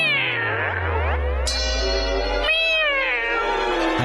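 A voice imitates a cat, giving a loud, drawn-out meow followed by further whining meows that rise and fall in pitch, heard alone and close.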